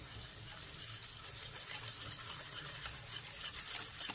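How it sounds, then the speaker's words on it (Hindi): Cream, sugar and a packet of jelly get mixed in a bowl, giving a soft, continuous swishing and scraping that is quiet and close, with no talking. "अब इसको हम मिक्स करते हैं।"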